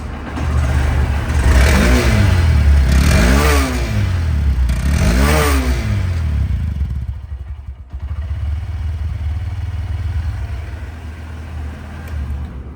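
A 125cc fuel-injected Suzuki Gixxer SP motorcycle engine revs three times in quick bursts, each rising and falling, then settles into a lower, steady idle.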